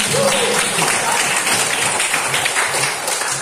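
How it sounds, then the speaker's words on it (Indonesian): Classroom audience applauding, a dense, steady patter of many hands clapping throughout, with voices murmuring underneath. "kita berikan aplaus dulu"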